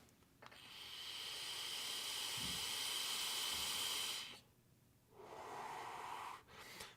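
A long inhale drawn through a VOZOL WHIZ disposable pod with a 0.6 ohm coil at 25 watts and no airflow control, a steady airy hiss lasting about four seconds, then a brief pause and a softer exhale, close and alone.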